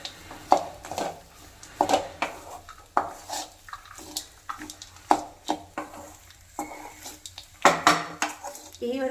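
Lemon rice being stirred in a metal pot, with a spoon scraping and clinking against the sides in repeated close, sharp strokes and some soft rustling between them.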